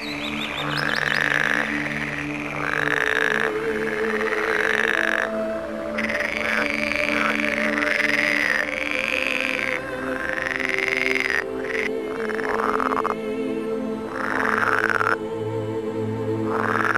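Frogs croak in a dense, continuous chorus of repeated rising calls, loud and close, with bird-like chirps mixed into the steady layered background throughout.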